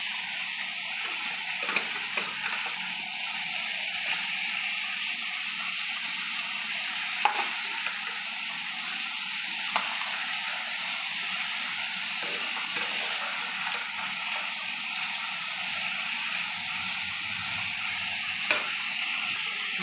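Chicken pieces frying in a pan, a steady broadband sizzle held close and constant for the whole stretch, with small spits and pops here and there and a few light stirring knocks, no voices.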